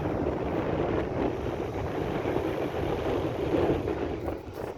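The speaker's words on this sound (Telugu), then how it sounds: "ఫ్లైట్ పోతుంది చూడండి పైన" A steady low roar from an airplane flying overhead somewhere above Kuwait City, a continuous rumbling drone that holds fairly constant throughout with some wind buffeting.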